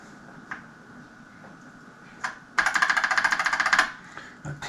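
Rapid, even clacking of mechanical BBC Master 8-bit computer keys without keycaps, a dense burst of typing lasting over a second after a few isolated key taps.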